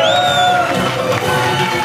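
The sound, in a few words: cheering and ovation at a wedding cake cutting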